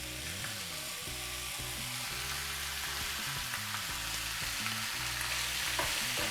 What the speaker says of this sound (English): Get our meat right into the pan.